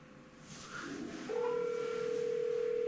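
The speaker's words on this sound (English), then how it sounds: "I tried to call Missy." A landline telephone in a home kitchen gives a short sequence of dialing tones, the last settling into a sustained steady tone, fairly clear above faint room noise.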